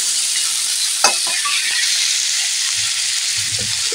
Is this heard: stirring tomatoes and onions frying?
yes